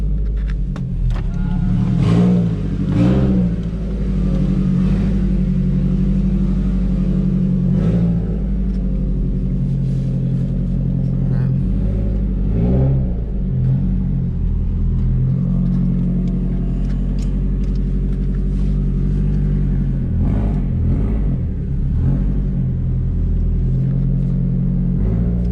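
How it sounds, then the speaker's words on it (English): A 2004 Subaru WRX STI driven at night gives a deep, steady engine rumble heard from inside the cabin, swelling gently with throttle changes over continuous low road noise, with no talking. "Strictly driving the car at night, hearing the Subi rumble, just driving it"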